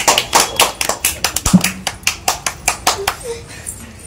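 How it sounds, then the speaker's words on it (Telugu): A group of children at a kids' game session claps together in quick, irregular bursts, the claps loud and close, with a brief voice heard partway through. "Claps everyone."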